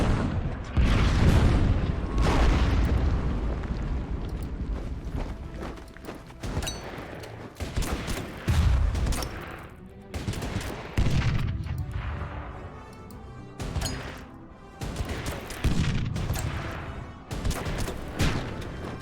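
Artillery fire in the strategy war game Order of Battle: repeated heavy booms and crashing salvos roll in one after another, loud and dense, with rumbling fusillades and sharp impacts throughout.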